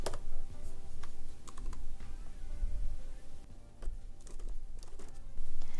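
Rapid clattering keystrokes on a computer keyboard as labels are typed, an irregular stream of close, crisp clicks with short pauses and no talking.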